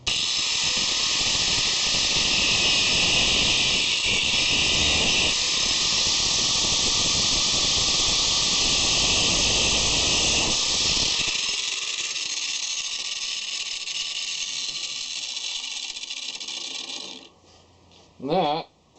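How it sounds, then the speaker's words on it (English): A cutoff wheel slices through PVC pipe in a workshop, giving a loud, steady high-pitched abrasive whine for most of the stretch. The grinding eases partway through and fades out near the end, followed by a brief squeal. "Right now I'm using my chop saw to cut these out, and my cutoff wheel here to cut this part."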